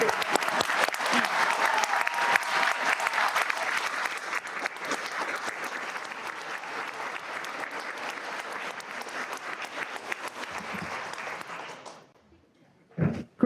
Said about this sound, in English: I feel we should all stand and applaud the amazing staff at LAE.